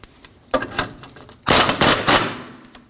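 Sharp metal-on-metal hammer blows punch out a suspension bolt on a Honda Pilot's rear control arm: one strike followed by a few lighter taps, then a rapid close flurry of loud hits.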